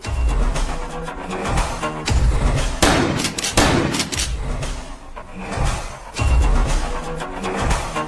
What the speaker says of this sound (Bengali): আগে দুটো ফাঁকা গুলি ছোড়ো তো।